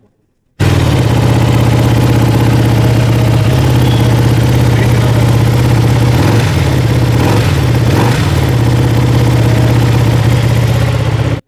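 A motorcycle engine fires up and idles loudly close by with a deep, steady exhaust throb, revving briefly a few times.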